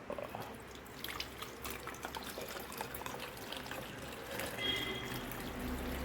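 Water pours into a plastic shaker for a pre-workout drink, a soft, close trickle running steadily throughout at low level, rising slightly toward the end, with no voices.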